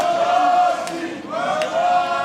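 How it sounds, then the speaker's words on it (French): A wrestling crowd at a KHAO Commando event cheers and chants for The Young Stepper, a loud, pitched, rising and falling group chant with sharp claps or shouts cutting through. "Entendez ça, la foule derrière The Young Stepper."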